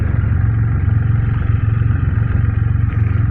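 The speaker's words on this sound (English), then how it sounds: "I would love to see if I can put this in neutral. Yeah, so I can rev it a little bit." Steady, close, low rumbling of a Can-Am Spyder F3 Limited three-wheeler's 1300cc triple engine running in neutral, with an even throbbing pulse and no spoken voices.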